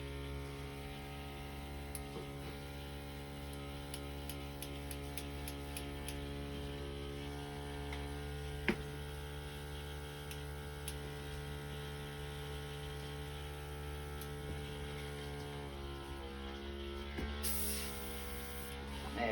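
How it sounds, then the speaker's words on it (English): A small airbrush compressor hums steadily and quietly during an acrylic pouring session, a faint continuous electric drone with a few light ticks and a brief hiss near the end. "excuse the small compressor sound for a second while I do this"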